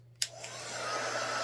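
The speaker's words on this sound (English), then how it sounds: "you're going to just take your little heat gun again and we're going to dry them" A heat gun blows hot air to dry painted Dollar Tree Christmas decor, clicking on and then running as a steady, close, broadband whoosh that holds for the rest of the moment.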